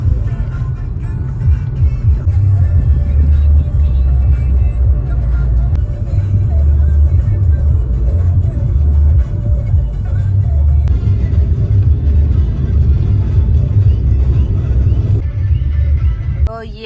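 Heavy road traffic rumbles steadily on a busy road near the Dhauleshwar Mahadev temple, a dense low drone that holds without a break from start to finish and sits loud and close.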